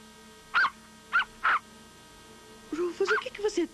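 A dog gives a few short, high whines, then a voice speaks briefly alongside more soft whimpers, all fairly quiet.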